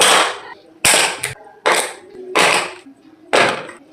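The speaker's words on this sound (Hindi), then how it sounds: "आवाज़ सुनिए चिक्की का।" Crunchy homemade nut chikki brittle being snapped and broken: five sharp, loud cracks spaced about every second, each a crisp snap with a short crumbly tail, heard alone without talk.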